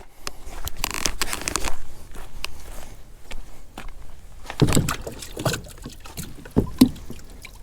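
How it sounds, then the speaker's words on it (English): Someone climbs into a kayak and pushes off, with bumps, knocks and rustling against the hull followed by splashy paddle strokes in water, close and irregular, with no talk. "I'm gonna jump in the kayak and take off right now."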